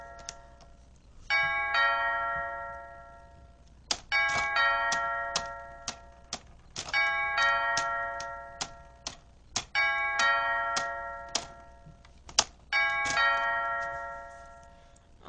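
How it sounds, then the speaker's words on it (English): A doorbell chimes again and again in a comedy skit, each ring a bright two-tone ding-dong with clear ringing overtones, repeated about five times in quick bursts with short pauses between, fairly close and alone without talk. "why do you like ringing the doorbell so much?"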